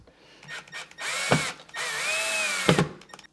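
A power drill drives a screw into a Honeywell thermostat base, whirring in two sustained bursts with rising and falling pitch, each ending in a sharp clatter, loud and close with no talking.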